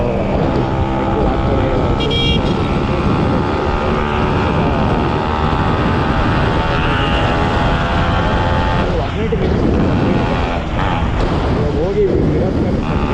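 A Yamaha RX two-stroke motorcycle on a Bangalore street at night, its engine droning loudly and continuously with rising and falling revs, mixed with other traffic and talk.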